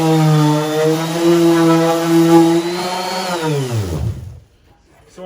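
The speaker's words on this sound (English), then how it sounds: "So let's get to sanding a little bit, smooth it out, and start staining the outside" A power sander runs steadily against old, weathered deck boards at a cabin, a loud continuous motor whine that winds down in pitch and stops near the end.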